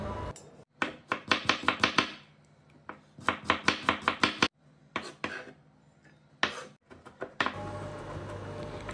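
Knife mincing onion and garlic on a cutting board: bursts of fast, crisp chopping taps in quick runs, broken by short pauses, close and fairly loud.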